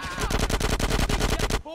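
Rapid automatic gunfire in GTA San Andreas Remastered on Xbox, a fast even burst of a dozen or so shots, loud and close, ending abruptly with a brief voice after it.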